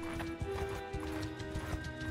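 Horse hooves clip-clopping at a brisk, uneven gait in the medieval battle game Mount & Blade 2 Bannerlord, close and continuous over a steady tonal hum, with no talking.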